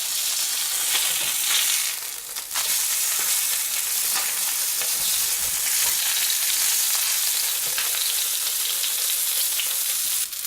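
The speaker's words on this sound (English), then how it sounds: "Sear until lightly browned 3 to 4 minutes." Food searing in a hot pan until lightly browned, a loud, continuous hissing sizzle that holds steady throughout, close by with no voices.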